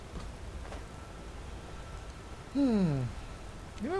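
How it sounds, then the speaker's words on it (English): Steady rain falls in Skyrim, a soft continuous hiss in the background, briefly overlaid by a gliding voice-like sound. "I actually rather like the rain."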